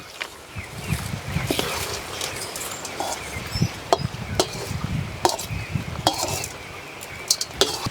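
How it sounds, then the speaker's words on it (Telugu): A spoon works through lemon rice with fried peanuts in a pan, giving repeated scraping stirs and sharp metallic clinks against the vessel at an irregular rhythm, close and fairly quiet. "ఇప్పుడు ఇవన్నీ శుభ్రంగా కలుపుకోవాలి."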